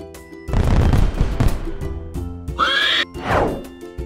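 A horse whinnies once, a short high neigh heard over a loud cartoon-style soundtrack with bursts of noise and music.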